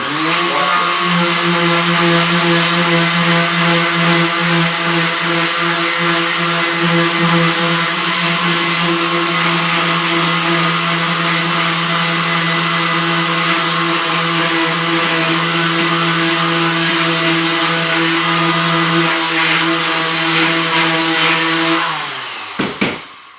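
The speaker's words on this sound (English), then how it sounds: "Notice how that printing comes right off of there with the sander." An electric sander works over construction-grade 2x4 lumber, sanding off the printed stamp: a loud, steady, unbroken motor whine runs for over twenty seconds, then cuts off abruptly with a couple of clunks at the end.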